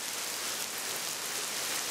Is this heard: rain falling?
yes